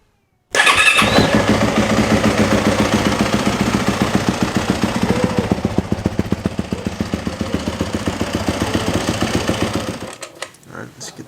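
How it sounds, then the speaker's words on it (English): A Yamaha YZ450F dirt bike fires up with the electric starter and settles into a fast, choppy four-stroke idle, loud and close, running steadily for several seconds before cutting out near the end. "first step is going to be to warm the bike up"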